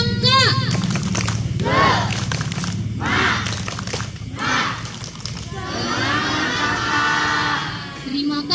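Scout troop at an evening campfire ceremony doing the "tepuk semangka" clapping routine, rhythmic group clapping and chanted shouts rising and falling together, close and loud, with lively voices throughout.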